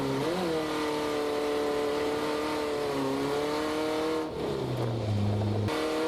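Drift car on a qualifying run at a drift competition, its engine revving loud and close with rising and falling pitch, a brief dip, then a lower throaty drone near the end.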